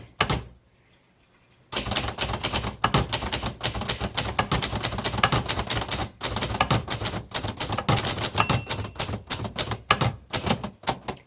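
A 1962 Hermes 3000 Roundtop manual typewriter clacks in a dense, steady run of keystrokes after a short quiet start. The strikes are crisp and close, with occasional heavier thumps.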